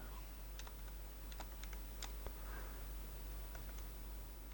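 Typing on a computer keyboard, with soft, scattered key clicks in short bursts over a steady background hiss.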